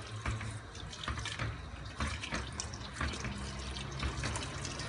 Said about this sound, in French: Mon bouillon est entièrement versé.